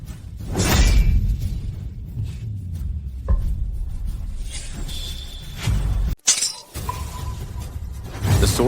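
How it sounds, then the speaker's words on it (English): Sword shattering, a loud crash of breaking metal with a sweeping whoosh and scattered ringing fragments, followed by a sharp cut and further rumbling impacts. "The sword destroyed itself."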